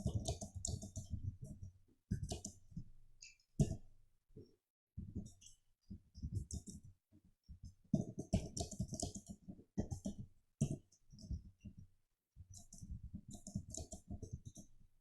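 Typing on a computer keyboard produces quiet, close clusters of clicking keystrokes in irregular bursts with short pauses, with no talk over them.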